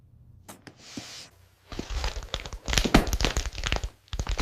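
Repeated cracking, creaking and crunching of a nailed-shut wooden box being pried open, irregular bursts close by with brief pauses between efforts.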